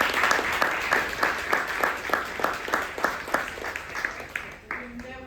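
A crowd at a citywide gathering on reparations claps steadily for several seconds, dense and fairly close, with the applause thinning out near the end.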